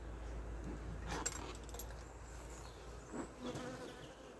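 Bees buzz around an open beehive, a faint, continuous hum with occasional brief louder passes close by, set over low background rumble.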